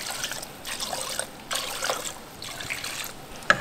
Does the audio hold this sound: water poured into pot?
yes